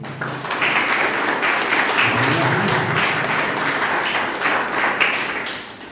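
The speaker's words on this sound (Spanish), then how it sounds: "Un aplauso, por favor, para Américo." An audience gives sustained applause for Américo Fernández Delgado at a cultural and journalism event in Arequipa, a dense wash of clapping lasting several seconds with a few voices mixed in.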